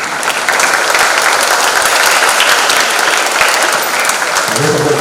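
Dense, steady applause from a church congregation at the close of Palm Sunday Mass, filling the whole span at full strength and fading slightly at the very end.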